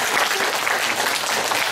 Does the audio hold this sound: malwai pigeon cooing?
no